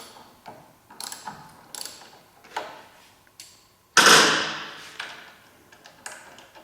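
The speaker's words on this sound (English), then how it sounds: "We're going to loosen up our caliper mounting bolts." Ratchet loosening the front brake caliper mounting bolts on a Yamaha FZ-09 motorcycle: several sparse metallic clicks and taps spread through the clip, with one louder sharp burst near the middle, recorded up close in a quiet workshop.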